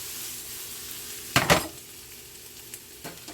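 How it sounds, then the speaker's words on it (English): Hash sizzles softly in a frying pan, a steady low crackle broken by a couple of sharp pan or utensil clatters near the middle and one more toward the end. "you hear my hash cooking"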